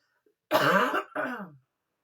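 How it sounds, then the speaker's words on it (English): A single person recovering from COVID coughs in two close harsh bursts, near and clear against silence. "So, I still cough a little and I apologize for that."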